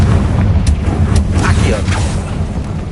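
Bombarda and Confringo blast spells go off in the wizarding game Hogwarts Legacy as a string of deep booming bursts and sharp cracks, loud and close, with a voice shouting over the explosions.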